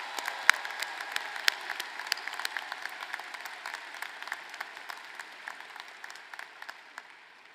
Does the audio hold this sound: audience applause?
yes